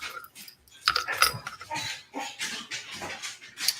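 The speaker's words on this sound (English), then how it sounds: "Oh, my doggies are happy." Excited dogs greeting someone at home, with snuffling, whines and jangling sounds in a short busy burst close to the microphone.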